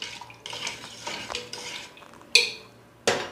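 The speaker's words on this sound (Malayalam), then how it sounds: "നന്നായിട്ട് ഇളക്കി കൊടുക്കണം." A spoon stirs sambar in a metal pot in a home kitchen, making a series of scraping strokes followed by two sharp metallic clanks near the end, close and clear with no talking.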